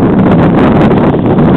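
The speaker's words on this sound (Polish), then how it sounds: "Ale wieje." Strong wind blasts across the microphone outdoors in a loud, continuous roar with gusty fluttering, with nothing else heard over it.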